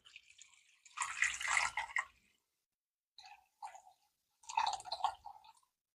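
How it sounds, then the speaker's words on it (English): Water poured into a cooking pot over chicken with bay leaves and salt, splashing in three bursts separated by short pauses, close and moderately loud. "I'm going to add in enough water to cover the chicken"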